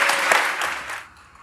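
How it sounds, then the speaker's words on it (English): Audience at a meetup claps together in a brief, fairly loud burst that thins out toward the end. "Big round of applause for our Katie Meetup."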